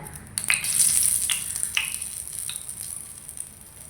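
Urad dal vada batter frying in hot oil: a loud, steady sizzle with a few sharper crackles as pieces go in, close and with no talking.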